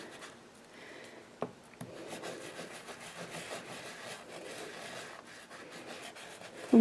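Soft, steady scrubbing as oily Archival ink cleaner is rubbed around to lift thick ink, a faint close rasping friction that continues for several seconds with a couple of light knocks.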